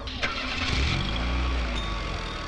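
A car engine starting, a brief cranking catch that settles into a loud, close, low-pitched idle with slight revving, with no talk.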